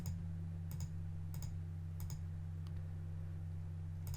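A code is typed on a keyboard in Poptropica: a handful of sharp, evenly spaced key clicks, quiet and close, over a steady low electrical hum.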